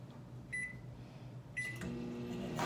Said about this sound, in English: back in the microwave for about 10, or, wow, 3 minutes